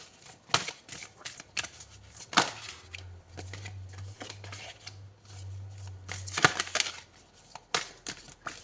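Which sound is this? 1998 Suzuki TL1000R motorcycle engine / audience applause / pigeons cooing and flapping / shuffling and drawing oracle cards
shuffling and drawing oracle cards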